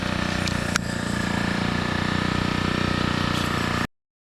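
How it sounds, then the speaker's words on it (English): A jackhammer runs next door, a loud, steady mechanical hammering rumble that continues without pause before cutting off abruptly near the end. "the jackhammer next door was just freaking out of control"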